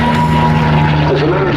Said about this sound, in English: There it is, that lovely whistling sound, so characteristic of the Mustang.